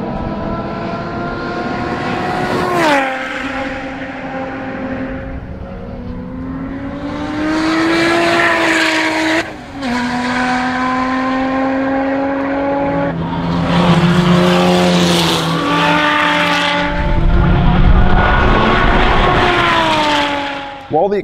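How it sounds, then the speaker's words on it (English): A supercharged Lotus Exige V6 with over 550 horsepower, on street tyres, laps an Australian race track, its engine note rising and falling through gear changes as it passes close and loud, with brief tyre squeal. "the real test is at the track with a Lotus, and Harry, in his 550 plus horsepower Exige"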